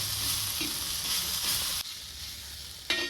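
Green chilli thecha with chopped coriander and crushed peanuts being mixed in a black iron pan, giving a steady close sizzle and scraping for most of the clip, then a sudden drop in level and a brief clatter near the end.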